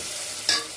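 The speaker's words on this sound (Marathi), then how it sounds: "फोडणी छान परतून घ्यायची आहे" Curry leaves, cumin, mustard seeds and turmeric sizzle in hot oil, a steady bright hiss with a sudden louder crackle midway as the tempering is stirred.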